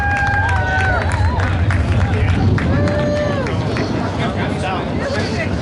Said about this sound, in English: make some noise for Kyle Strickler